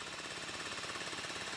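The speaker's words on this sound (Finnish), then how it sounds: "Sitten laitetaan porasia." A drill runs in Payday 3 with a steady, rapid mechanical rattle at constant level, fairly faint and unbroken, no voices.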